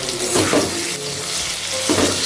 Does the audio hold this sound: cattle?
no